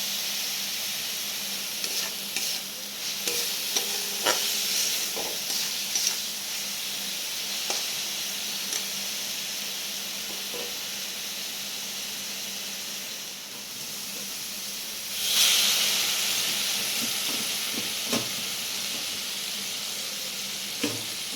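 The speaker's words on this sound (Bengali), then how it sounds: "আমি মশলাটা কষিয়ে নিয়েছি। এরপর একটু হলুদ দিয়ে নিলাম" Spice masala with turmeric frying in a pan, a steady close sizzle and hiss with occasional light clicks and scrapes of stirring, one louder burst partway through.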